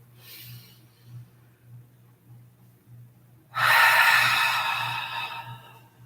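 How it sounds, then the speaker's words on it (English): Slow breathing during a gentle yoga session: a soft, quiet breath early on, then a loud, sustained exhale from about midway that fades gradually, close to the microphone with no talking. "If you're breathing out for 5, inhale for 5 as well."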